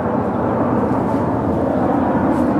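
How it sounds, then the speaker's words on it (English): Military helicopters from a nearby Marine base circle overhead, making a steady, loud, broad rumbling drone that holds without a break throughout. "helicopters from the Marine base"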